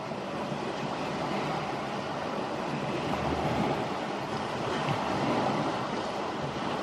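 St Lucia estuary water surging across a closed road like ocean surf, a continuous loud rushing wash with wind buffeting the microphone.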